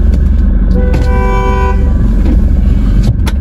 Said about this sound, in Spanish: el tipo de atrás me estaba de pitar y pitar